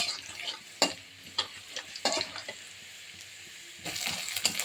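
Beans and potato fry with chopped garlic and onion in a pan, a soft sizzle broken by several sharp scraping stirs of a spatula and a louder burst of frying near the end.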